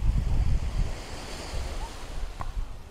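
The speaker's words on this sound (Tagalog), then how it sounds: "Tapos ito yung beach. Maayos din yung beach." Ocean waves washing on a beach in Bohol, a continuous rushing surf with low rumbling swells and wind noise on the microphone, no talking.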